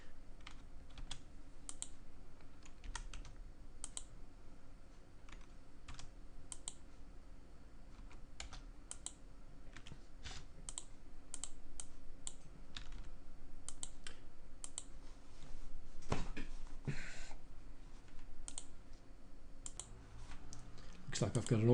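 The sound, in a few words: typing data on a computer keyboard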